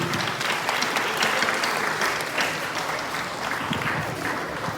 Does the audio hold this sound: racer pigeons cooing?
no